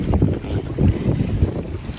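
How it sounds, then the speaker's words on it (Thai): Strong wind buffets the microphone at a reservoir while fishing for giant snakehead, a loud continuous low rumble with gusting surges and no voices. "ตอนนี้นะครับก็ลมแรงมากนะครับ"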